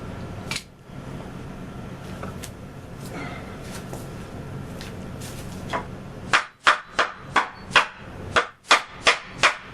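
A run of sharp hammer blows driving a nail into wood, about nine strikes in a steady rhythm, loud and close, after a stretch of background noise and scattered knocks.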